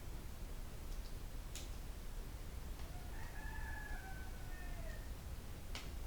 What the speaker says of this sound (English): Y'all hear my little rooster?